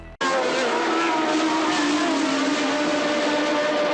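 A 1981 Formula 1 race car, Nigel Mansell's Lotus, roars at full power with a sustained high-pitched engine scream that holds steady and loud throughout, and a commentator talks over it.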